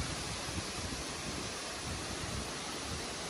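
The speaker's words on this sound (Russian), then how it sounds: "но очень сильный ветер." Strong wind outdoors on a warm September day, a steady broadband roar buffeting the microphone without letup, with no voices.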